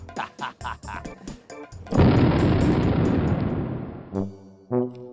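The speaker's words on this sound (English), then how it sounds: "Finally, I now have the chance to detonate the fireworks by myself." A loud burst of National Day Parade fireworks in Singapore erupts into a sustained roaring, crackling rush after a series of rhythmic thuds, then fades into scattered bangs.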